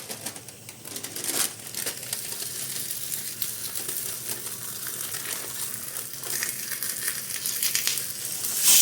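Ghee bobbatlu, sweet stuffed flatbreads, fry in a pan with a continuous close sizzle and scattered pops and crackles, louder toward the end, with no voices.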